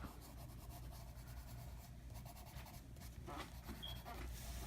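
Quiet, close scratching of pencil strokes on paper, soft repeated rubbing sounds with brief pauses between them.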